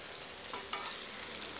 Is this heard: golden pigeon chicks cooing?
no